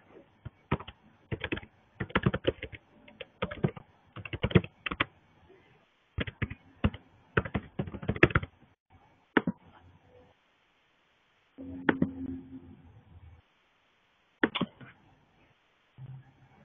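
Someone types login details on a computer keyboard in quick bursts of key clicks separated by pauses, close and fairly quiet, with a few isolated taps near the end.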